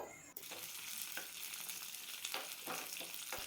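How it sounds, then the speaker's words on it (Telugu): Green chillies and chana dal frying in two tablespoons of hot oil for peanut chutney, a dense, steady sizzle heard close up with a few brief stirring scrapes and no talking. "పల్లీల చట్నీలోకి పచ్చిమిర్చి ఫ్రై చేస్తున్నానండి"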